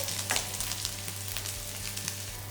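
Quesadilla filling roasting in a pan, a steady close sizzle with a few stirring scrapes and no voices.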